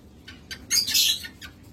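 Opaline ring lovebirds chirp in a short burst of sharp, high tweets, a few quick calls clustering into a louder squawky flurry in the middle before tapering off, with no talking.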